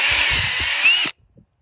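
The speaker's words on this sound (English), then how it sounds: "Next step is gonna be drill." Power drill fitted with a depth-stop bit boring into 9 mm thick tree bark for a sensor installation, a close, loud, steady whine lasting about a second before cutting off abruptly into silence.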